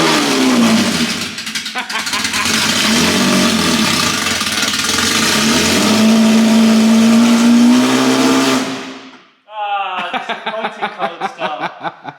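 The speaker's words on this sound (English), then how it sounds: "Cold start. Yeah, it is very cold. That's quite loud." A Lamborghini Murcielago GT1 with a homemade exhaust cold starts, its engine roaring loud and close with rising revs, then cutting off before a series of sharp rhythmic blips and pops.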